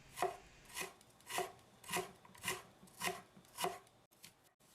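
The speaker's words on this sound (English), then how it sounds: "We need to cut the ginger into slices first, then julienne into strings." A knife slices ginger on a cutting board in about seven evenly spaced, soft, crisp strokes roughly every half second, close and quiet, followed by a brief pause and a lighter tap.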